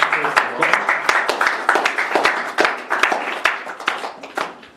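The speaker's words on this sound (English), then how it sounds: "let's give a round of applause" An audience at a lecture on Austrian economics applauds, dense overlapping claps forming a steady, lively round that fades near the end, heard close in a room.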